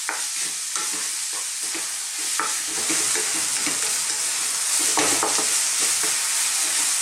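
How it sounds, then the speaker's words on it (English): Red onions with garlic sautéing in a pan, a close, steady sizzle with repeated scraping and tapping as a utensil keeps stirring them throughout. "Let's saute these onions around just for about 3 or 4 minutes. Keep stirring all the time"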